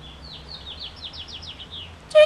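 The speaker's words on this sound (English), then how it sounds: "You hear the birds?" Several high, quick bird chirps repeat faintly against a quiet outdoor background, ending with a brief louder click.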